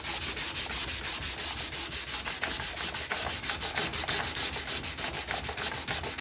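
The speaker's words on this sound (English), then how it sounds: "We're going to go to actually 600 now and repeat the process." Hand sanding a car headlight lens with 600-grit sandpaper gives a quick, steady rhythm of rasping back-and-forth strokes, close and even, with no talking.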